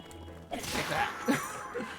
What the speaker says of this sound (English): Your tree branch broke.